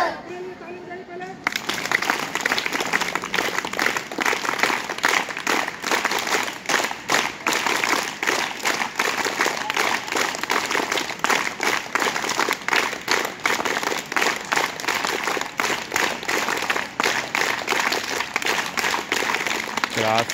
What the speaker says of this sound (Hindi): अपने लिए ताली बजाइए पहले